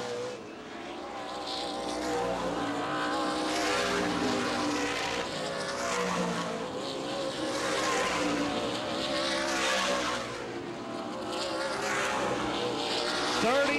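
Race cars circle Baer Field Speedway during the 2013 Three Rivers Festival 100, their engines roaring in rising and falling waves as they pass, loud and continuous throughout.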